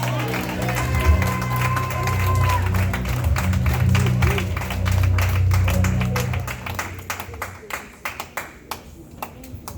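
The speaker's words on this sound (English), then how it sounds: "Clap your hands and give God praise" A church congregation claps along during a deliverance service, a steady patter of many hands under a loud, sustained voice and music that drops away near the end, leaving a few scattered claps.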